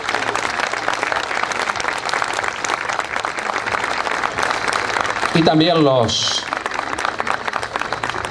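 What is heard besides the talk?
applause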